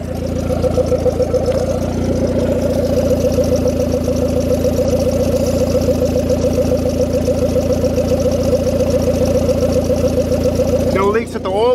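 Turbocharged Honda D16 single-cam engine running at a steady idle, a loud, even mechanical hum close by with a rapid regular pulse, briefly disturbed near the end; someone talks over it.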